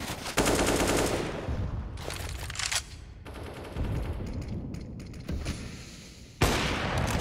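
Rapid gunfire in Counter-Strike on the Mirage map during a professional match, with dense automatic bursts broken by short pauses and renewed volleys, loud and close.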